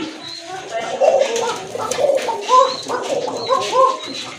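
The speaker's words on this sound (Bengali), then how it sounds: "এই যে দেখেন কত সুন্দর ডাকে কবুতরগুলো, ডাকে হ্যাঁ অনেক ডাকে।" Arabian cocker pigeons with feathered feet coo close by, repeated throaty rolling calls overlapping one another in a loft.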